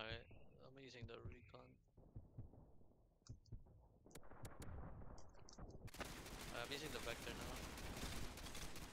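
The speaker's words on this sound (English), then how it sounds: "But are they really shooting RPGs at us?" RPG and gunfire in the video game Pixel Strike 3D crack and boom in rapid bursts, building to a dense continuous barrage, with a voice talking over the early shots.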